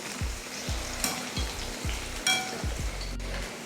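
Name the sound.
curry leaves frying in oil with mutton chilli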